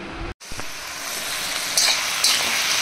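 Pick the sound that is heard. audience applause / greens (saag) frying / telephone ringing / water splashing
greens (saag) frying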